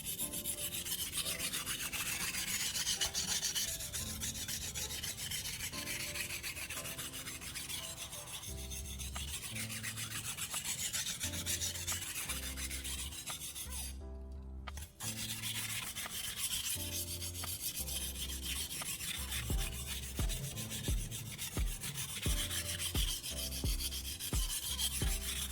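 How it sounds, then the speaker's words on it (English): A knife sharpened with repeated strokes, a steady rhythmic rubbing and rasping of the blade that continues close and even, with one brief pause partway through. "I'm repeating the strokes until I feel a finer burr forming along the edge."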